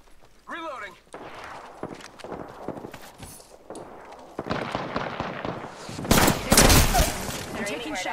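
Gunfire in Apex Legends on PS4: scattered shots build to loud rapid bursts near the end, mixed with in-game character voice lines.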